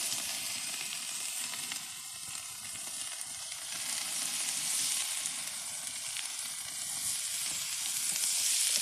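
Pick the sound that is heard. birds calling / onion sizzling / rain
onion sizzling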